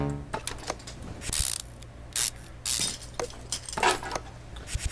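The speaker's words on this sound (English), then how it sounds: "using a ratchet through solid fucking metal" A ratchet wrench turns bolts on a car in several short bursts of rapid metallic clicking, close and sharp, with brief pauses and clanks between the runs.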